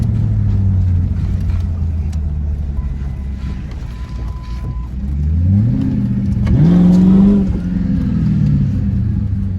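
A used Ford Mustang with a coolant smell drives along with a steady engine rumble, then accelerates, the engine note rising and swelling louder near the end before easing off.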